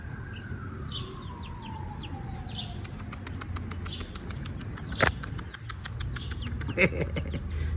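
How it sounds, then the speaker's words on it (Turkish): Rakkas chicks, black and white, peep and chirp in quick high-pitched bursts, with a brief rising whistle early on and soft background noise throughout. "Bunlar rakkas tavuğu arkadaşlar ya. Rakkas civcivleri."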